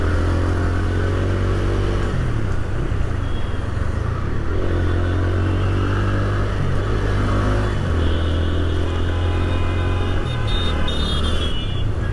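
A second-hand motorcycle engine runs close by, a steady loud rumble with a few revs rising and falling over about twelve seconds, with no voices.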